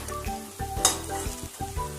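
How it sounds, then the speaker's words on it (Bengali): Capsicum pakoras sizzling as they fry in hot oil, a steady crackle with a few stirring and utensil clinks, close by and without talk. "সিমলা মির্চের পকোড়া সব ভাজা হয়ে গেছে।"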